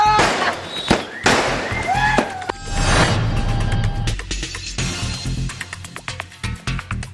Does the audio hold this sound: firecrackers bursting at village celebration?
yes